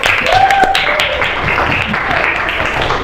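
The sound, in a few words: classroom applause for a student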